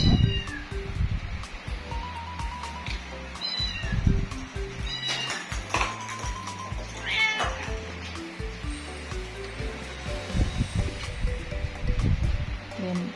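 A kitten in a cage meowing repeatedly, wanting to get out, its high cries scattered over several seconds alongside rustling and someone speaking in the background.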